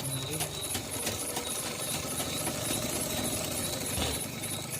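Sewing machine running steadily while a katori blouse is stitched, a continuous mechanical whirr with rhythmic clatter close by, mixed with faint background noise.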